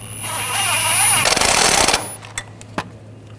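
A power tool rattles in a rapid burst for about a second while snugging a bolt on a 2015-2020 Cadillac Escalade front brake hose bracket, followed by a couple of faint clicks near a high steady whine.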